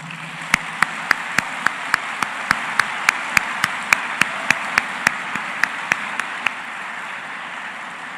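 Sparse, evenly spaced hand claps ring out at a graduation ceremony, about twenty sharp strokes in a steady rhythm over a hall's low murmur, fading out after six seconds.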